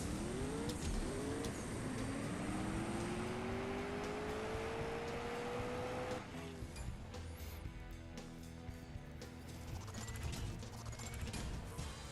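A convertible drag-races in the mobile racing game CSR2, its engine revving in rising pitch sweeps through gear changes before settling into a dense, steady mechanical roar, close and loud throughout.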